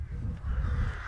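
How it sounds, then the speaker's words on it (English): Crows caw from up in a tree along the Cromford Canal, several harsh overlapping calls that are loud and close over outdoor rumble. "if you can hear me over the sound of the crows there up in the tree"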